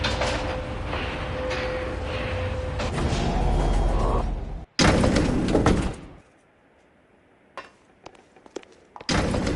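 A moving elevator in the video game L.A. Noire: a steady mechanical rumble with a faint whine, then a loud clunk and rattling of the car and doors before sparse knocks in near silence.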